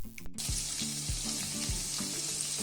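Sliced onion frying in hot oil with garlic in a pan for chicken fried rice, a close, steady sizzle with a few soft scraping stirs, no talking.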